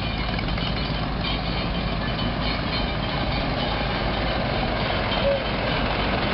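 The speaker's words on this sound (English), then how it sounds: "The lovely Kira Tor driving this tractor for us" A restored 1950 Model 981 Select-O-Speed tractor with a high-crop front end drives past at a steam show, giving a steady, dense engine rumble at moderate distance, continuous and without talk.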